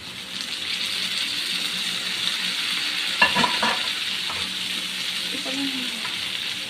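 Beef with broccoli sizzles steadily in a frying pan while being stirred, with a short burst of scraping and clatter midway and a faint voice briefly audible near the end.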